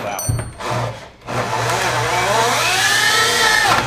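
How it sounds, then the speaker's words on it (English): A heavy-duty drill bores with an Irwin SpeedBor bit, starting in brief bursts and then settling into a loud, steady grinding whine that labours and slows as the bit nearly stalls, close and with no talking. "Look at that, it's almost stalling the drill out."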